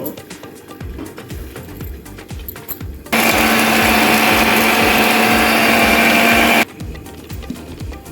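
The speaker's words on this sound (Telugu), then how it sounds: "మిక్సీలో దీన్ని నేను ఇప్పుడు పేస్ట్ పైన పేస్ట్ చేసుకుంటున్నాను" Mixer grinder blending tomato and coriander into chutney paste, a loud steady whirring roar that runs for about three and a half seconds in the middle, with quieter kitchen handling sounds before and after.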